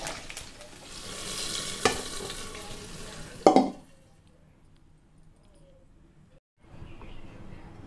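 Curry leaves crackle and sizzle in hot oil for a dal tempering, a hissing spatter with a stir and a clink of a utensil, then dying away into near silence with a faint sizzle returning at the end.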